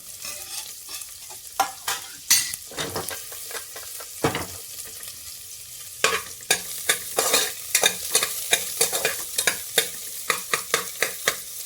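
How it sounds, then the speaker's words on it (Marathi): Chopped onion fries in hot oil for mutton masala, with crackling sizzle and frequent sharp spatula scrapes and taps against the pan, up close and without talk. "आता कांदा टाकून घेऊया तेलामध्ये"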